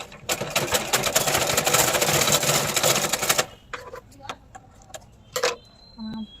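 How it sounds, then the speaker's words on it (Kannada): A sewing machine stitching on a scrap of waste cloth runs in a fast, close, rattling burst for a few seconds, then stops, leaving quiet handling clicks and a few brief taps. "ಇವಾಗ ಒಂದು ವೇಸ್ಟ್ ಬಟ್ಟೆ ತಗೊಂಡು ನೀವು ಫಸ್ಟು ಹೊಲಿಬೇಕು ಹೊಲಿಗೆ ಎಲ್ಲ ಸರಿ ಬರ್ತೈತೆ ಅಂತ ಅಂದರೆ ಮಾತ್ರ ಚೆನ್ನಾಗಿರೋ ಬಟ್ಟೆಗೆ ಸ್ಟಿಚ್ ಮಾಡಬೇಕು"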